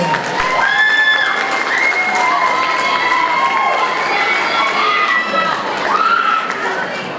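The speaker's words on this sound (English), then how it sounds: "another round of applause for the East Middle School band." A middle school awards assembly crowd applauds the East Middle School band, with sustained clapping mixed with cheering, children's shouts and whistle-like calls over several seconds.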